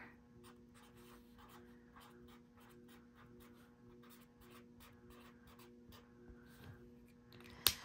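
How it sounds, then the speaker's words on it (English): A pen writes on journal pages: quiet, close strokes scratch and tap in quick uneven bursts, then a sharper rustle at the very end. "We're gonna write buddy color here"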